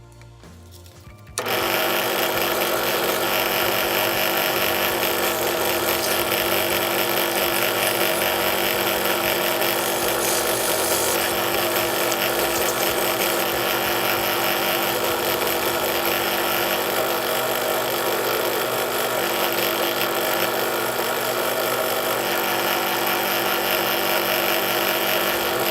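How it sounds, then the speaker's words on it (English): Steady abrasive whir of sandpaper against a spinning 223/556 brass cartridge case held in a chuck, starting abruptly after a brief quiet moment and running loud and unbroken with a constant motor hum beneath. "we're going to progressively work our way down here from the highest grit to the lowest grit on the sandpaper and just clean this up nice"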